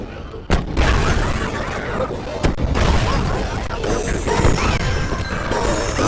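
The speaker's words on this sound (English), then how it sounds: "I'm gonna use a cannon. So basically, destroy everything." In the video game Boom Blox: Bash Party, two loud, sharp cannon booms land a couple of seconds apart, followed by continuous crashing and rumbling of exploding blocks, with a voice talking throughout.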